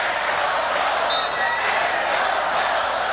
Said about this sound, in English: Nothing better than when the entire SSC crowd rises on Aloha ball